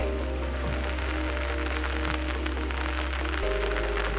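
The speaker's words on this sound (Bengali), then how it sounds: "কয়েকদিন থেকে খুব বৃষ্টি হইতেছে" Heavy rain falling steadily outdoors in waterlogged fields during days of downpour, a dense continuous patter with a constant low hum beneath it and no talking.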